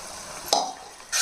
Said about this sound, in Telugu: ఇప్పుడు బాగా కలిపేసి చక్కగా ఇది కూడా పచ్చివాసన పోయేంత వరకు బాగా వేగించాలండి